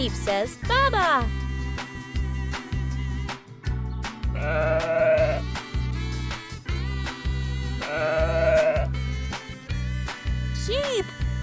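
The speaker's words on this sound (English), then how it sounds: "Sheep says baba." Sheep bleats from a children's animal-sounds lesson, several wavering cries spaced across a steady rhythmic music bed, loud and close.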